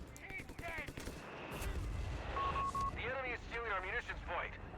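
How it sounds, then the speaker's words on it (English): In Company of Heroes 3, an off-map mortar barrage and a lobbed grenade land as repeated booms and thuds in the battle, heard under a caster's talk over the game. "See the captain drop a off-map mortar barrage"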